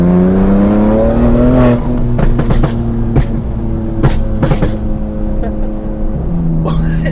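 A tuned car's engine revs hard with crackling exhaust pops, heard loud from inside with the windows open. The revs rise and fall in surges and are broken by sharp bursts of pops, and people talk over it.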